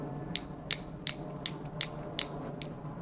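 A glow-in-the-dark balisong butterfly knife with stiff pivots is flipped back and forth, giving six sharp, evenly spaced metallic clicks over a soft steady background.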